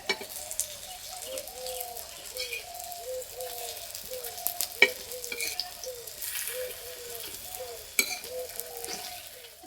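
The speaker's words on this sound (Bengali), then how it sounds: "এক পিঠ ভাজা হয়ে গেছে, উল্টে দেবো" Potato and wheat flour flatbread fries in oil with a soft, steady sizzle, while pigeons coo repeatedly in the background.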